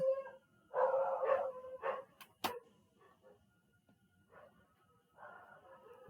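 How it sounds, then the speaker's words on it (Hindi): A dog barks a few times somewhere nearby, short sharp yelps and whimpery barks in uneven bursts, with quieter gaps between them. "सर कुत्ता भौंकने की आवाज आ रही है कहीं से।"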